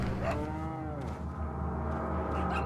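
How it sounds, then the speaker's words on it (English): A cow in a video game gives a long, clear, drawn-out moo with rich harmonic tones and a slight pitch sweep, close and loud, with no talking over it. "Hello, cow."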